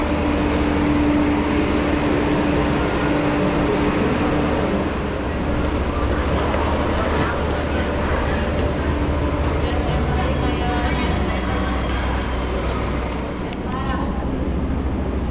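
Rumbling suburban train noise fills a busy station platform in Indonesia, with people talking over the steady mechanical din.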